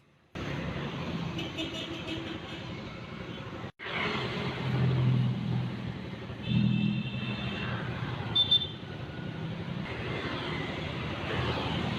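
Street traffic at an intersection in Ambon where Jalan Patimura meets Jalan Rijali, with motorbikes and cars turning, a steady close rumble of engines passing and revving for the whole stretch.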